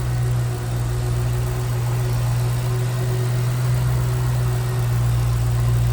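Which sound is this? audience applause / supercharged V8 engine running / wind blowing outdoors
supercharged V8 engine running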